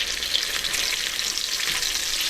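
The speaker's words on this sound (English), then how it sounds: "Let them sear up there." Salisbury steak patties sear in a hot pan with a steady, close, loud sizzle that holds evenly throughout, with no voices.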